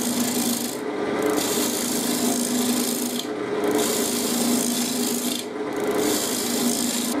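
A woodturning tool cuts the inside edge of a wooden sphere doughnut chuck on a spinning lathe: a loud, continuous rasping scrape with short, regular dips, close up. A single brief word is spoken.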